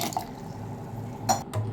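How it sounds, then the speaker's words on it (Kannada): Roughly a quarter glass of water is poured into a vessel of freshly ground paste for a homemade flower hair oil, giving a short, close splash and trickle amid quiet. "ಇದಕ್ಕೆ ನಿಯರ್ಲಿ ಒಂದು ಕಾಲು ಗ್ಲಾಸಷ್ಟು ನೀರು ಆ್ಯಡ್ ಮಾಡ್ಕೊಳ್ತಾ ಇದ್ದೀನಿ"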